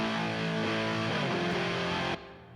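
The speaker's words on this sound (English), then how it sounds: "Dirty Guitar Reamp is through a Marshall head with, I believe, Fender cabs" Dirty, heavily distorted electric guitars reamped through a Marshall head into Fender cabs play thick sustained chords in a mix, loud and dense until an abrupt cut near the end.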